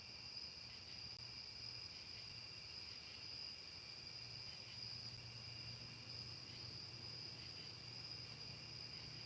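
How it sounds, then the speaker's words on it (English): Crickets chirping outside at night from a porch, a faint, steady high trill running unbroken under a quiet background hum, with no one talking. "We're out on the porch listening to the crickets."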